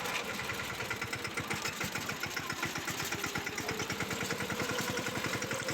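A tractor hauling tied sacks of harvested cumin runs with a low, steady chugging beat, its rapid regular pulses carrying on evenly up close with no talking.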